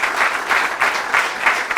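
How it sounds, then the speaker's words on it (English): Brief applause from an audience at a governor's economic announcement, steady clapping in gentle waves with no talk over it. "So give them a round of applause for that."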